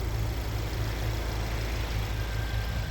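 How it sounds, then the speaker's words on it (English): A 2017 Volkswagen Golf R with its 2-liter turbo engine and DSG gearbox idles under the hood, a steady low rumble with a faint pulsing beat, close and continuous with no talk. "You'll hear it idling very happily."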